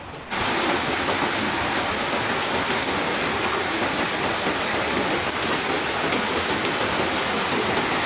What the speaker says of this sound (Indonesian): Hujan lebat yang turun sejak sore hari membuat debit air sungai meningkat drastis